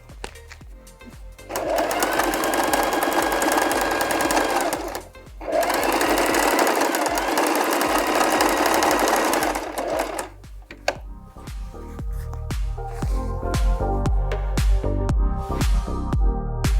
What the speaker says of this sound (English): we can just sew along to join the pocket onto the main piece